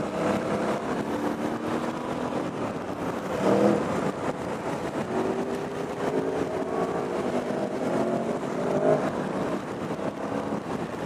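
The engine of an Aprilia Dorsoduro 900 motorcycle revs on the road, with a continuous drone that swells under the throttle a couple of times, heard up close over wind noise.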